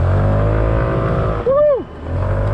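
A 2021 SYM Symphony ST 200 scooter's engine drones steadily up close, then pitches sharply up and back down in a quick rev-and-drop, and the steady hum returns.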